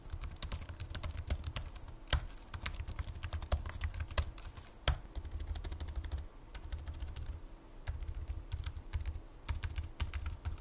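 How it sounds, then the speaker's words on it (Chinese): Rapid, crisp key clicks from typing on the compact keyboard of a GPD Pocket 4 mini laptop, close and steady in bursts with short pauses and a few louder keystrokes. "打字声音大家可以感受一下"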